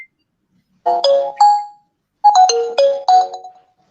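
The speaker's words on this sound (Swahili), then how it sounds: "kuna simu hapo inaleta messages mingi sana" A mobile phone sounds a run of electronic message alert tones, two short clustered chimes followed by a longer burst of four or five bright tonal pings, loud and close with no talk over them.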